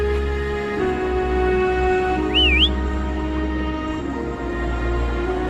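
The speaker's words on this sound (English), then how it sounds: "Try whistling." A short, rising-and-falling whistle rings out once in the video game Wuthering Waves over a steady hum of game music and ambience.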